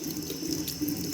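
Tap water runs steadily over fan blades being rinsed, a close, continuous splashing hiss that never breaks during the brief stretch.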